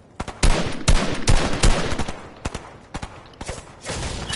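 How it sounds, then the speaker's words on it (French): Bursts of gunfire between other players in the video game Fortnite, a rapid crackle of loud overlapping shots in clusters with brief pauses between volleys. "je vais laisser se tirer entre eux là"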